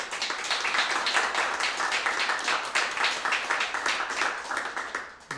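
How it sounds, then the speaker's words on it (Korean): Sunday worship congregation giving applause of glory to God, a sustained, even patter of many hands in a church hall that swells and fades slightly before tapering off at the end. "우리 하나님 앞에 영광의 박수 함께 드리겠습니다."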